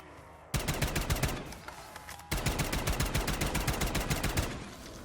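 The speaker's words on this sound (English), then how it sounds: "Oh yeah, and now I'm on the LMGs." Rapid light machine gun fire in a Call of Duty Zombies game: two long bursts of fast, evenly repeating shots, loud and continuous, broken by a brief pause.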